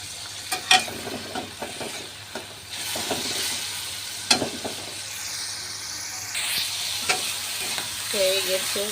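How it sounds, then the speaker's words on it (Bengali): Prawns frying in a little oil in a wok after the water has cooked off, a loud close sizzle with repeated sharp scrapes and clatters of stirring, a hissy spit of steam partway through. "পানিটা টেনে গেলে একটু তেল দিয়ে ভেজে নেব"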